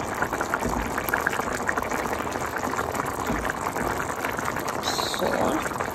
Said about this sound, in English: Ayan, nagsistart na siya ng kumulo.